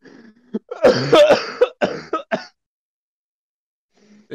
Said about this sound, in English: I'm fucking coughing right now